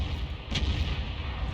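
A single sharp shot from a 212A self-propelled artillery gun in a tank video game, one loud burst about a third of the way in over a steady low rumble of engine and ambient battle noise.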